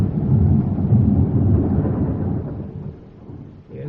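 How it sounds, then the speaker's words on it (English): A thunderstorm with rain, used as a sound effect in a radio drama of Crime and Punishment: a loud, deep rolling thunder rumble that slowly fades under a steady wash of rain. "How can you go out like this? The storm, the rain."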